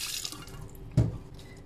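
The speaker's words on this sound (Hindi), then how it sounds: "तो मैं यहाँ पहले थोड़ा सा पानी खोलती हूँ।" Tap water runs into a sink before a griddle is cleaned, a steady close hiss of flowing water with a brief splashing surge partway through, no talk.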